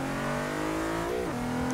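A 2012 Nissan GT-R with all-wheel drive and 550 horsepower accelerates hard on a mile drag run in Forza 6. The engine holds a steady high drone, then dips briefly at a gear shift before pulling on again.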